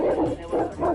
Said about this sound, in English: These are mastiffs. They're sniffing me.